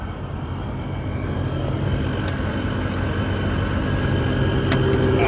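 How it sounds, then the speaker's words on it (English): A supercharged 2000 BMW E39 M5 engine runs with a steady, loud broadband roar that builds slightly in level, idling with a rough rumble. "It's running, but it's not obnoxiously loud until you give it some,"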